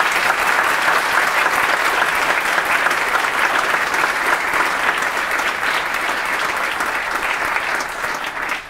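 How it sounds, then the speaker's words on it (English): Dense, sustained applause from a conference audience for panel guests at an investor networking event, loud and steady throughout before tapering slightly at the end. "So if you could give them a round of applause, please, that'd be great."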